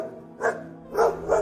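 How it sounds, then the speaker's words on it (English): An AI-generated dog gives three short, close barks in quick succession, loud and clear against a quiet background. "So for example, I'll type a dog barking."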